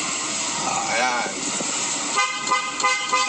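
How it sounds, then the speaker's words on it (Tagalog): A car horn toots several times in short bursts on a residential street in the Philippines during a Covid-19 aid drive, with a voice talking over and between the honks. "Busina tayo."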